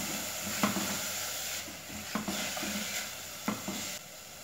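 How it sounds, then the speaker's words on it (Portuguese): Garlic and onion sauté in a pan for a cassava and dried-beef soup, with a steady close sizzle and several sharp stirring scrapes and clicks of a utensil against the pan. "Vou colocar aqui o alho e vou colocar também a cebola. Deixar dar uma refogada"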